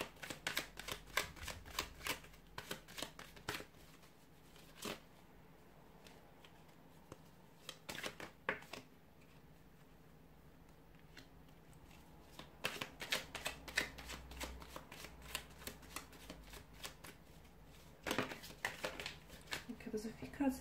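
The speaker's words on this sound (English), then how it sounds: "There's a few cards that are just sort of flying out." Tarot cards are shuffled by hand over and over, with crisp riffling flutters and soft papery slaps broken by short pauses. The sound is close and steady for the whole stretch, and no voice is heard.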